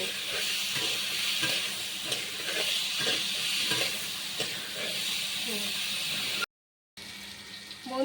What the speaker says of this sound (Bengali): ভালো করে এটাকে ভেজে নিব, ভালো করে ভাজবো।